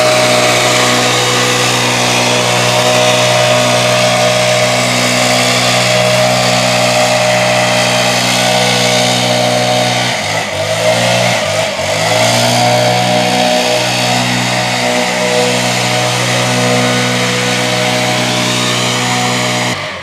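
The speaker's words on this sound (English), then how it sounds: "take your blower and actually clean out the edge so that edge pops prominently" A leaf blower clearing out a lawn edge drones loudly and steadily at close range, its engine pitch dipping briefly midway before settling back to a constant roar.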